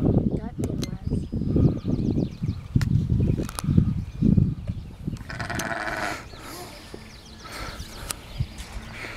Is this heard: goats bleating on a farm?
yes